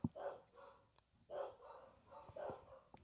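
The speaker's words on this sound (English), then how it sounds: "It's a symphony of dogs." Several dogs bark in bursts of overlapping yips and woofs, three clusters spread across a few seconds with short pauses, fairly faint and somewhat distant, no talking.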